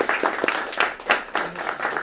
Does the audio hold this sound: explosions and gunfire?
no